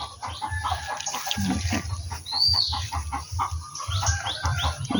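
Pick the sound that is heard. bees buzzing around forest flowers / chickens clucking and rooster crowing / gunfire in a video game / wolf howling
chickens clucking and rooster crowing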